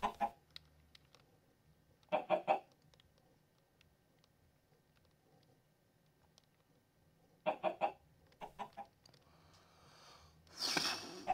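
Chickens in the Minecraft modpack Crazy Craft give short bursts of clucking, several separate clusters spaced a few seconds apart. A longer, louder squawk comes near the end, set against a quiet background.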